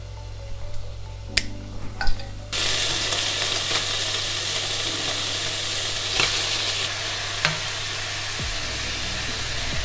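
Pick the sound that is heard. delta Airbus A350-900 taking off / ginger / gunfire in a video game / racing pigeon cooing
ginger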